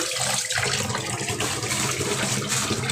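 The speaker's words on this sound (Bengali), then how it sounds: "তাও তাজা তো ভালো করে ধুয়ে গোটা গোটা ধুয়ে" Whole fresh fish are rinsed under running water in a sink, giving a steady close splashing and gushing that continues throughout with small shifts as they are turned, and no speech.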